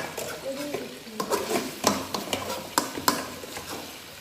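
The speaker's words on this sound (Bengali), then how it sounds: "মাছটাকে ভালো করে কষিয়ে নিতে হবে।" Pangas fish and eggplant frying in a pan, with a busy sizzle broken by frequent clicks and scrapes of stirring. The sound is close but moderately quiet.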